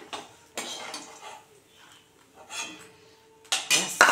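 Fried cauliflower pakoras being lifted from a pan one at a time, producing a few separate metallic clinks and scrapes of utensil on cookware with quiet gaps between them.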